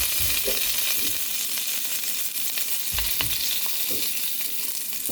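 Fennel seeds, cardamom and spices fry in hot sunflower oil in a pan while making a pork roast, a steady close sizzle with occasional stirring clinks and scrapes and no talking.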